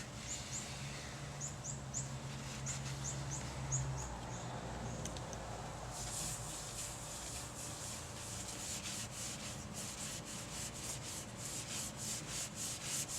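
Versa Wax is rubbed onto a woodturned turkey pot call, a soft continuous friction hiss that turns into quick rhythmic rubbing strokes in the second half, close and fairly quiet.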